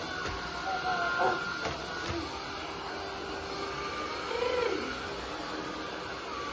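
Vacuum cleaner running in a house as a child sweeps, a steady whirring drone with brief knocks and shifts in pitch, while an adult talks over it.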